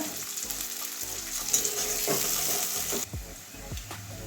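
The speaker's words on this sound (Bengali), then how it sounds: "এবারে পেঁয়াজটা ভেজে নেব ভালো করে" Onion fries in a pan on a home kitchen stove, a close, steady sizzle with stirring strokes and spoon scrapes against the pan, fairly loud and continuous, no voices over it.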